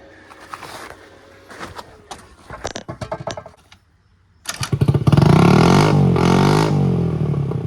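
Motorcycle being kickstarted: several sputtering kicks and brief coughs, a pause, then the engine catches and runs loudly up close, revving steadily.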